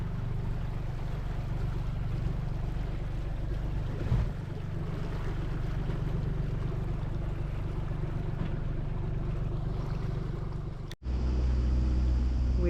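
A sailing catamaran motors into a bay off Ithaca Island in calm, windless conditions, its engine a steady low drone under wash and water noise, interrupted by a brief dropout near the end before the rumble returns.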